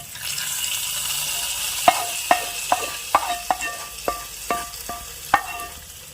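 Hot tempering poured into a Kerala-style prawn curry sizzles steadily, with a string of sharp metallic clinks and taps from a spoon against the pan over the fry.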